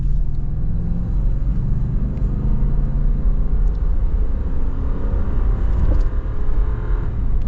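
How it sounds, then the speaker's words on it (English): Armored Toyota Land Cruiser 200 Series accelerating, heard from inside as a loud, steady low engine and road rumble that builds evenly with no breaks, no talk. "Let's see how the acceleration is though."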